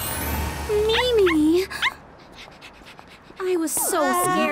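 A puppy in a Tayo the Little Bus toy play show whimpers in thin, rising and falling whines, mixed with lively voices and other sound effects.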